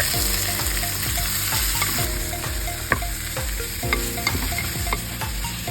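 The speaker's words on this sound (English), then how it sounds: "in the same pan, we saute minced garlic, and then we add the pork." Minced garlic and pork sauté in a pan with a loud continuous sizzle, while a spatula stirs and scrapes in regular strokes close by, and nobody speaks.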